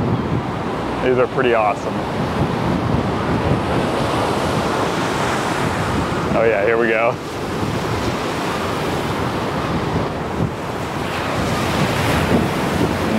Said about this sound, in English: Gotta show you these waves before we go.